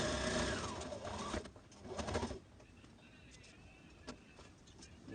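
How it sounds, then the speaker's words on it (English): A sewing machine stitches a red zip-front jumpsuit in two short, close bursts of whirring, then falls quiet with only faint background noise and a brief click. "Continue sewing."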